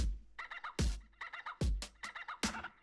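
Chopped bird calls that mimic other animals, including gobbling, turkey-like sounds, repeat in quick rhythmic bursts. Punchy drum hits land between them, forming a tight beat.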